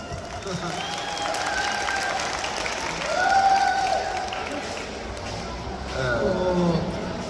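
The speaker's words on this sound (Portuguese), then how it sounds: "Aplausos!" A crowd at a voice-actor panel at the GeekXP Arapongas 2025 convention applauds in a steady wash of clapping, with a voice speaking over it and swells of cheering rising and falling.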